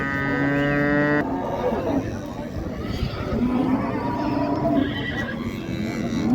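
Cattle low at the Qarshi livestock market, one sustained moo up front followed by lower animal calls amid crowd chatter and market bustle.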